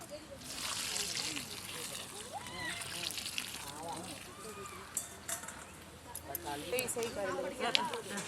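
Water splashes and sloshes into a bowl of chicken pakoda batter for several seconds, close and fairly loud, with a voice talking over it.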